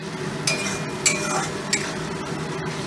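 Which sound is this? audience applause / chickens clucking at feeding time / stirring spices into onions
stirring spices into onions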